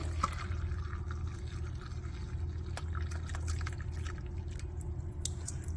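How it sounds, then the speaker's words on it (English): Herbal decoction of wild madrone berries pouring steadily into a small teapot over a low hum, with small splashes and trickles scattered through the pour, fairly quiet and close. "So I've got a little teapot over here, and I'll just pour my tea into it."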